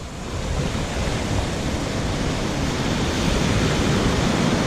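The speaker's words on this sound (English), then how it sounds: "Surf's getting really choppy." Choppy ocean surf at New Smyrna Beach roars as a steady, loud wash of breaking waves with wind buffeting the microphone, and no voices are heard.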